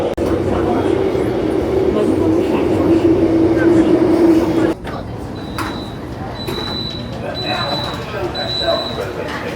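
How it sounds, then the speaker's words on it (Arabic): A train pulls into a station, its loud rumble and squealing brakes ending in a sharp stop, followed by quieter platform noise and repeated high electronic chimes as the doors open, with people talking nearby. "هاي وصل القطار"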